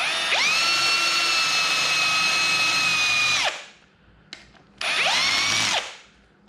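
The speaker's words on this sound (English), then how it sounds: "And you're going to go ahead and start drilling." A power drill with a countersink bit whines at high speed for a few seconds, stops, then spins up again for a shorter burst, close and loud.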